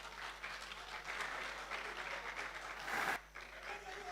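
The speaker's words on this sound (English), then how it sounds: "a round of applause to them." A round of applause from the audience at a national health week final quiz competition: steady, dense clapping that swells near the end, then drops off abruptly.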